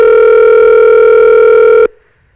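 A loud, steady telephone dial tone hums without change, then cuts off abruptly; no keypad dialing is audible, and no one speaks.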